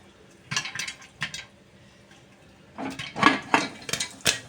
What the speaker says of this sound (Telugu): లోపల పాప్కాను వేగుతూ పేలుతుంది కదా